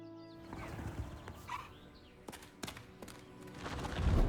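Hippogriff sounds from the video game Hogwarts Legacy, a horse-like whinny and snorting over soft hoof thuds and ambient background that grows louder near the end.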